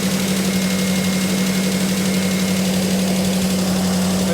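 A classic Mustang car engine idling steadily nearby with a deep, even hum and slight knocking vibration, running alone without talk.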